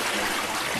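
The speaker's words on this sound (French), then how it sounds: "La chasse d'eau." A toilet flush, a brief burst of steady rushing water, loud and close, heard alone with no voices.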